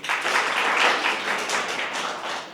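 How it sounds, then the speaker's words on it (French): Audience at a school quiz competition in Niamey applauding two contestants, a dense, steady patter of clapping that swells and then slowly thins. "On applaudit pour eux, s'il vous plaît."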